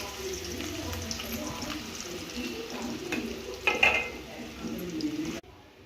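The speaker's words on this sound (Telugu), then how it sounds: "ఆనియన్స్ డీప్ ఫ్రై చేయడానికి ఆయిల్ పెట్టి ఆనియన్స్ ఫ్రై చేసాను" Onions deep frying in hot oil, a soft continuous sizzle with brief stirring clatter and a faint metallic scrape, moderately quiet, ending abruptly.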